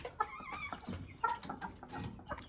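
Chickens cluck and chatter softly at a small home poultry farm, with overlapping hen calls and a brief crow-like cry, all heard at low volume.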